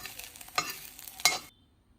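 Dried anchovies frying in hot coconut oil in an iron pan, a crackling sizzle with two sharp bursts as the fish is stirred, then abruptly cut off.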